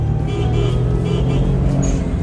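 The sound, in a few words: Suzuki Cappuccino turbo blow-off valve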